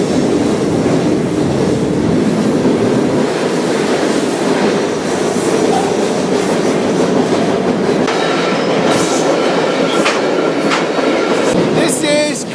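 A train rolls past on the rails near a forest fire in the Pacific Northwest, a loud continuous rumble with rhythmic clickety-clack and occasional metallic squeals near the end.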